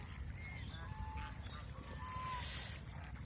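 Male geese on a goose farm in Mohanganj give several honking calls, faint and somewhat distant above a steady low background noise.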